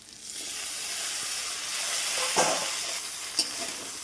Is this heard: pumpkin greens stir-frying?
yes